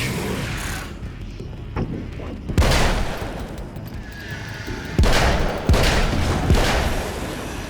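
Gunshots in the video game Alan Wake's American Nightmare: several sharp, loud single reports spaced a second or so apart over a busy game soundscape.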